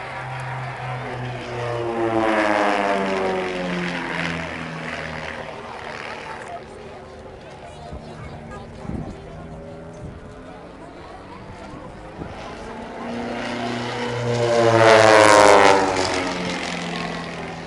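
Two propeller aircraft fly in an air display, their engine drone rising, fading and swelling again as they pass, with a commentator talking over the sound.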